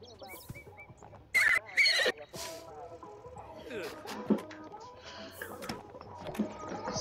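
Horses in The Sims 4 Horse Ranch game give a couple of short, loud whinnies with some hoof clip-clop, set against a steady game soundscape and ongoing talk.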